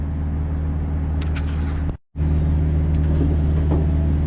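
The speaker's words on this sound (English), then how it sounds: "as I'm going up, I'm listening for any unusual noises, any squealing, any weird noises from the pump box." Hydraulic pump motor of a truck liftgate lifting unit running steadily as the gate rises, a loud continuous low hum and rumble that cuts out briefly halfway before resuming.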